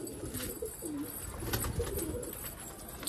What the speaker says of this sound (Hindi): लो भाई अपने सारे कबूतर बाहर आ गए हैं मस्त